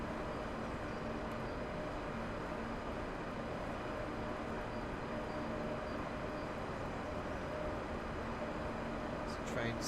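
A train in Train Sim World 3 runs with a steady, dense rumbling drone and faint mechanical hum, continuous and even in loudness, with a brief clatter right at the end.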